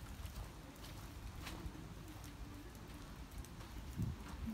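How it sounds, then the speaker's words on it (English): Rain begins falling on a porch in Florida, a dense, soft patter of drops on the surface with a few sharper close taps, steady and fairly quiet throughout. "Oh, it's starting to rain."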